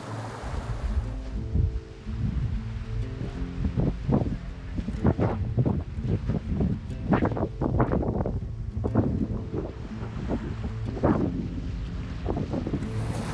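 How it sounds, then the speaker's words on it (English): Calm Pacific Ocean waves wash around a sailing catamaran, a continuous low rumble of water and wind buffeting with repeated soft surges and splashes close to the hull, no talking. "A calm, peaceful ocean, Pacific Ocean that just 2 days ago was wild and crazy."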